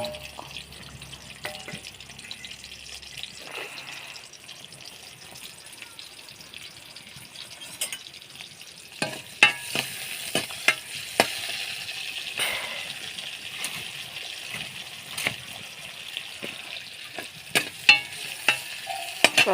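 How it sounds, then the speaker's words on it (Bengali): Onions fry in hot oil in a pan and get stirred now and then, a steady low sizzle with scattered sharp scrapes and taps that grow busier and louder in the second half. "পেঁয়াজটা কষিয়ে নেবো এবার"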